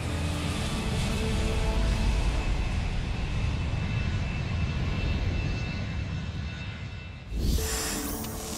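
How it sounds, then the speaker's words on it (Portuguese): A COMAC C919 passenger jet, the first large airliner built in China, roars through its takeoff run, a loud broad sustained engine rumble and hiss that eases slightly before a brief surge near the end. "O C-919, o primeiro grande avião de passageiros fabricado na China, foi liberado para decolagem"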